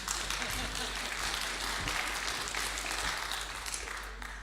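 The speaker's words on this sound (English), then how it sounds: "Yeah, you can applaud if you want." Audience at a Friday afternoon presbytery meeting in Roseburg applauds a report: a dense, even wash of clapping that holds steady for several seconds, with voices faintly mixed in.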